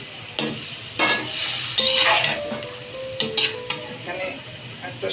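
Soaked lentils and bottle gourd being stir-fried in a pot, with a soft sizzle under repeated knocks and scrapes of a spoon against the metal, close and moderately loud.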